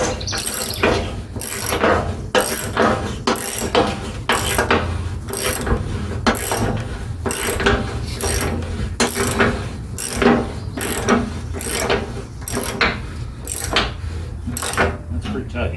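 Ratchet mechanism on a tow dolly being cranked, a steady run of rapid metallic clicks and clanks close by, with brief talk from people working on it.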